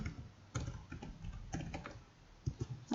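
Typing company details on a computer keyboard, a quick irregular run of soft clicky keystrokes close by, with a few louder taps near the end and no speech.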